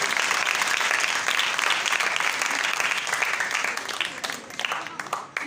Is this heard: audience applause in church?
yes